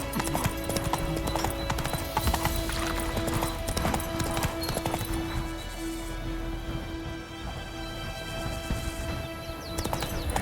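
Roach, a horse in The Witcher III: Wild Hunt, gallops with steady, loud clip-clop hoofbeats throughout, joined by an occasional whinny and game ambience.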